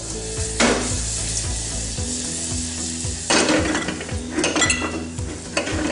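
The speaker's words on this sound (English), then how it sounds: "So those mustard seeds and the star anise, they've just been sautéed off in the butter" Mustard seeds, star anise and a little garlic sauté in butter in a pan, a steady close sizzle with bursts of louder frying and a few clinks of a utensil against the pan, no talking.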